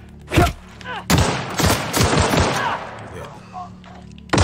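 Enemy gunfire in The Outer Worlds video game: loud bursts of rapid shots and thumps in quick clusters, with a brief exclamation from a player mixed in.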